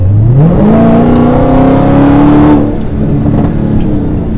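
A Dodge Hellcat's 6.2 liter supercharged engine revs up from idle into a loud, rising roar, holds high briefly, then drops back to a deep, rumbling idle, close and powerful.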